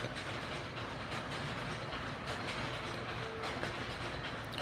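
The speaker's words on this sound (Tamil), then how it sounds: "சவுண்டு வந்து தறி ஓட்டுறாங்க அந்த சவுண்டு நம்ம பக்கத்து வீட்டு எதிர் வீட்டிலே தான் தறி ஓட்டுவாங்க" A handloom runs in a neighbouring house with a steady, muffled mechanical clatter. It is distant and continuous, with no talking.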